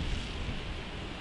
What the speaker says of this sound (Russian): ветер, я чувствую здесь очень сильный ветер